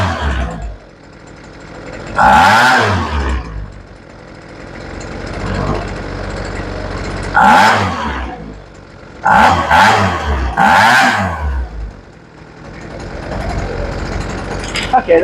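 A Husqvarna leaf blower's small engine, freshly fitted with a rebuilt carburetor, idles low and rises into sharp, loud revving bursts about four times, falling back to idle between them.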